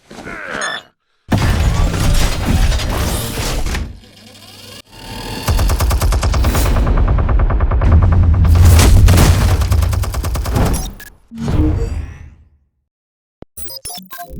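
Explosions and gunfire in a Batman Telltale video game, loud booming blasts with crackling debris and rapid bursts, broken by short silences and a long rumbling blast near the middle.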